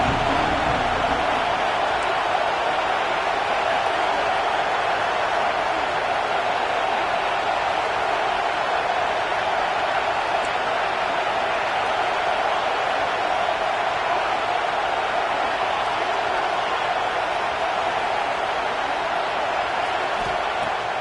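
Stadium crowd cheering in a Madden football game: a constant, wide wash of crowd noise with faint applause, staying level and unbroken for the whole stretch.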